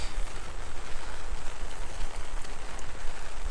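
Steady rain falls and patters on surfaces, a constant broadband hiss with faint irregular drops, continuous and moderately quiet with no voices.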